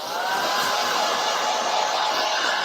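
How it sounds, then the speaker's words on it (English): Hair dryer blowing on paint on a round Christmas craft sign, a steady, loud, close airy whoosh with no break. "let's grab the hairdryer."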